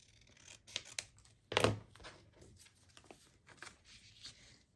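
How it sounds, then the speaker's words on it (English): Scissors snip through paper while envelope window pocket pages are made, one sharp, close cut standing out among softer rustling and handling sounds at low volume. "So I'll just tear this and I'm going to cut it."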